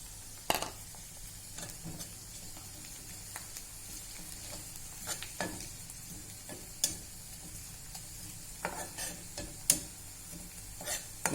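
Kasuri methi sautés briefly in oil in a pan of capsicum curry, giving a soft, low sizzle. Sharp spatula taps and scrapes against the pan recur at irregular intervals, and no one speaks.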